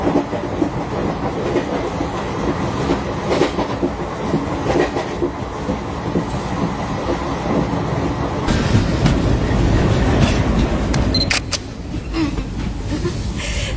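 A train rolls steadily along the rails with continuous loud rumble and clickety-clack of the wheels, the noise swelling louder toward the end.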